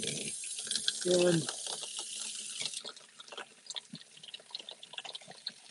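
Tap water runs for rinsing paintbrushes, a loud hissing stream for a few seconds that then stops, leaving light clatter and a brief voice.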